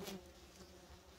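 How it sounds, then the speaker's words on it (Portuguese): Jataí stingless bees swarming around their nest as it is moved from a rotten box to a new one, giving a very faint, close, steady high buzzing with no speech. "Bastante abelha."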